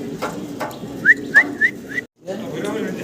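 Pigeons at a pigeon farm, with several short rising whistle-like calls in quick succession alongside someone talking, then a brief silence and more talk.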